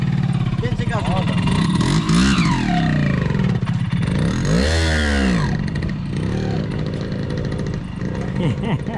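A Simson moped engine revs unevenly under throttle, loud and close, its pitch climbing and falling in uneven surges as a learner rider works the clutch and gas, with people talking over it.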